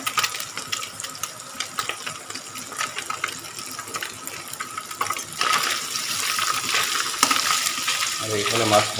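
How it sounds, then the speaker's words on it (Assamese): Fish sizzles and crackles steadily in hot oil in a home kitchen pan, a close, continuous spitting hiss that swells louder toward the end, with a brief voice at the close. "আৰু এইফালে মাছ ভাজি আছে"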